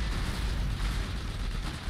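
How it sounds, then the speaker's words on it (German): Heavy cannon fire in the real-time strategy game Iron Harvest, a dense, rumbling blast with a sustained low boom filling the whole short stretch at moderate loudness, no voices. "Da kommt eine dicke Kanone."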